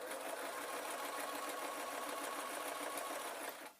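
A sewing machine stitches a travel pillow in one continuous, even buzzing run, close and steady, cutting off just before the end.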